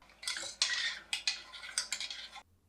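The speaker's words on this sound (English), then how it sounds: "Give it a quick stir," A spoon scrapes and clinks against a metal pot of ramen broth in several quick, uneven strokes, close by, with no voices.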